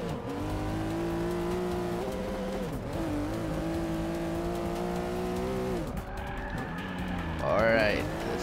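A car drifts in the racing video game Forza Motorsport 6, its engine revving in rising and falling gear pulls with a brief tire squeal near the end, while a person talks over it.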